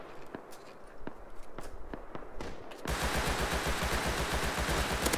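Rapid automatic gunfire in the survival game Rust: scattered single shots and footsteps at first, then a loud, dense continuous burst of fire filling the second half.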